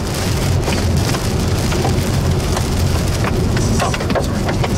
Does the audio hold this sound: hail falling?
yes